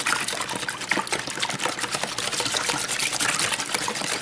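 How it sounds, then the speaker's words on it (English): Eggs and other ingredients for bread pudding whisked together in a bowl: a fast, steady, scraping churn that runs unbroken and close, with no talking over it. "So see? Whisk it all together."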